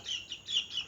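Young nursery chicks being caught for a Newcastle disease eye-drop vaccine give several short, high clucking chirps in a quick uneven rhythm, close and fairly faint, with no talk.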